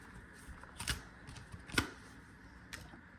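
Moonology oracle cards are handled and shuffled, giving a few quick papery riffles and crisp snaps, two sharper bursts standing out against a quiet background; close and soft, with no talking.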